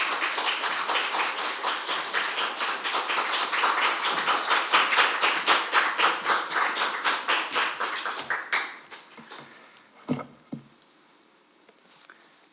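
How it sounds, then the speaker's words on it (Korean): A church congregation at a Sunday service claps in a long burst of steady applause to welcome a visiting missionary, dense and even at first, then thinning into a few scattered claps and taps before fading out. "우리 선교사님 나오실 때 큰 박수로 환영했으면 좋겠습니다."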